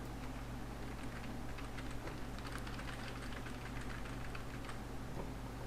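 Soft, quick key clicks come from a computer keyboard during typing in MS Word, faint and fairly close, running in an uneven patter over a steady low hum with no talking.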